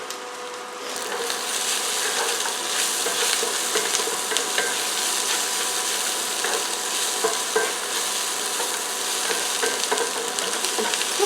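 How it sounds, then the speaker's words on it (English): Corned beef hash with potatoes being stirred as it fries in a pan, a continuous moderate sizzle with light crackles and soft scraping turns throughout, near and with no voices. "And we're going to give this a mix."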